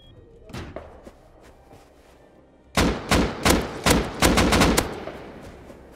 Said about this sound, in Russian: Вот там как раз кто-то взрывает.